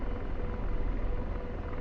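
A simulated military helicopter hover-taxiing in a flight simulator gives a steady, loud rotor and turbine drone with low rumbling, continuous and unbroken with no talk.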